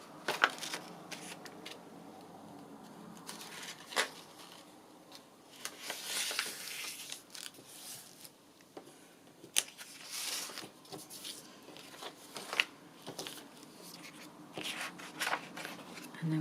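Paper being folded into four-pocket signature inserts: soft crinkles, rustles and sharp creasing taps come and go up close, with a few quiet handling thumps and little talk.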